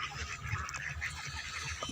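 Scattered honking quacks from a group of farm ducks, moderately close, over a dense outdoor background on a muddy duck farm.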